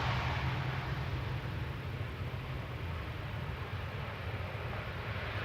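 Boeing 737-700 at Amsterdam Schiphol Airport, a steady broadband jet roar with a deep low rumble, continuous and fairly distant, no talking.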